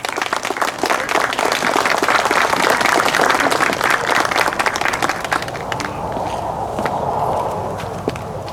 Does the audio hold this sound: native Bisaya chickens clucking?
no